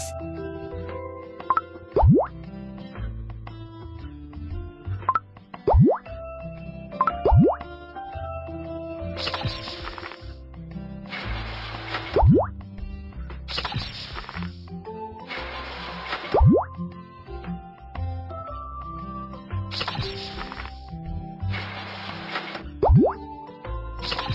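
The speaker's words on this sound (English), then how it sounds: "Please pour the mixture into the molds." Cartoon chocolate candy mixture is poured into molds, heard as a series of bouncy plops and drips spaced through the scene. Bright, playful sound effects recur in short bursts.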